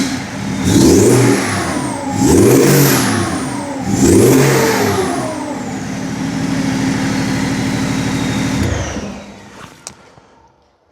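A BMW E36 fitted with a swapped M57 diesel engine revs hard three times in quick rising and falling sweeps, then holds a raised steady drone before dropping away, loud and close.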